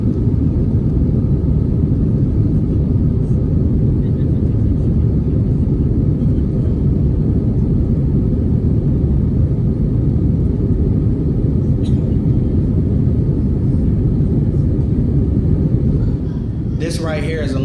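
A steady, loud low engine rumble with a constant airy roar, like sitting inside an aircraft cabin in flight, unchanging throughout.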